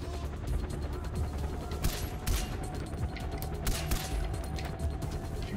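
Busy gunfire in the Far Cry 4 game on Xbox One or PS4, with scattered sharp shots over a steady dense background of game noise and rumble, no speech.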